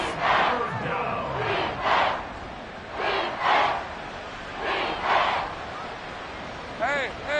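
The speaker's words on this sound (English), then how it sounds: "Crowd on their feet." A football stadium crowd roars in repeated swelling waves on a big third-down play, loud and distant, with a commentator talking over it.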